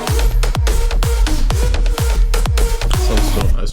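Dense, loud electronic music from a remix drop, with bright layered synth leads over a pounding kick drum hitting on a steady beat, no voices.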